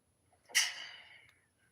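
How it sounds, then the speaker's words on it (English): One sharp, forceful sneeze bursts out after a quiet moment, then trails off into a breathy tail. "I sneeze real hard."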